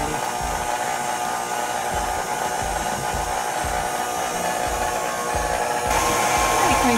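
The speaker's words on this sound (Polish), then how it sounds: "No i kończymy mielenie" An electric meat grinder mincing porcini mushroom filling for Christmas Eve dumplings, a loud steady motor whine with rhythmic low churning pulses, running continuously and close.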